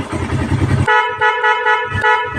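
An aftermarket PIAA horn on a Suzuki Raider motorcycle blares loud and close in several short, bright honks in quick succession, following a brief stretch of idling engine.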